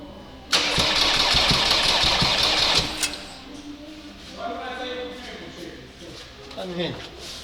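A Ford Transit diesel engine cranks loudly on its first start attempt, a sustained starter whir lasting a few seconds before cutting off, followed by quieter rumble and nearby voices talking.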